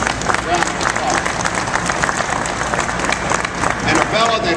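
Audience applause at a Caterpillar expansion announcement in Boyle County, Danville, honoring local officials; steady dense clapping with some crowd noise, fairly loud and continuous.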